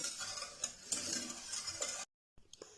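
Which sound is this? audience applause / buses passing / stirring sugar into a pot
stirring sugar into a pot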